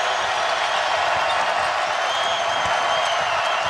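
Roaring crowd noise fills a basketball arena during the 2018 NCAA second-round game between Seton Hall and Kansas, a dense, steady wash of cheering and applause that holds loud throughout, with a commentator's voice faintly underneath.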